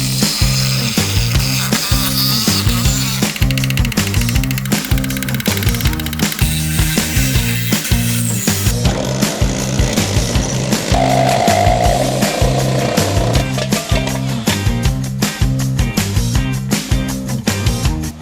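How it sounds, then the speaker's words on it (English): A power tool cuts through the chassis leg of a crashed BMW X5 M50, a loud, continuous, buzzing mechanical grind with rapid pulsing, changing pitch about halfway through, close and steady for the whole stretch. "we cut off that one part of the chassis leg, and also cut through this part of the attachment of the support frame"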